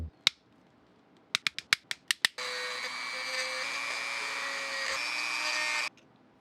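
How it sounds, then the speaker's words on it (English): A rotary tool cuts into a small doll's double ball joint. A quick series of sharp clicks comes first, then a steady high-pitched whine runs close and loud for about three and a half seconds before stopping abruptly. "Of all the tools I used, the rotary tool was definitely the MVP."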